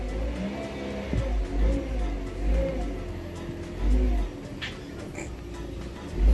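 A car passes outdoors with a low engine rumble that swells and fades in a few surges, a bit louder near the end, with faint background noise around it.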